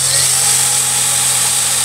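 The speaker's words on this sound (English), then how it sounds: "I'm going to use 1 1/4 inch screws to screw on this piece here," A power drill runs loud and close as it drives a 1 1/4 inch screw into a piece of scrap wood, a steady high whine holding for about two seconds without pause.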